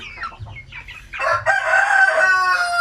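Native chickens on a Filipino farm raised for sale by the kilo: clucks and short calls lead into a loud, close rooster crow that holds for over a second.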